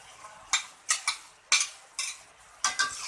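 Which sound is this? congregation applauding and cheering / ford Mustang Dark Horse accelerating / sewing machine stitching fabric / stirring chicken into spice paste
stirring chicken into spice paste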